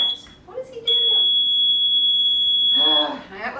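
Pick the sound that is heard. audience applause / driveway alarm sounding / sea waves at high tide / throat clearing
driveway alarm sounding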